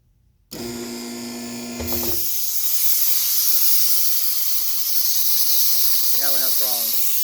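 Loud, steady air hiss from a suspension leak on an aging Rolls Royce Phantom, starting abruptly after a brief machine hum and continuing broadband without pause, with a short spoken voice near the end over it.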